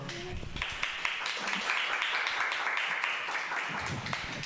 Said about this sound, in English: So everybody, please give a warm round of applause for Erik Hayton.